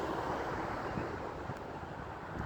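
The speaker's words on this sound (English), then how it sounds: "oh, it's getting windy." Steady outdoor wind rushing across the microphone during an April 2024 partial eclipse viewing, a continuous broadband roar with no gusting pauses and no voices.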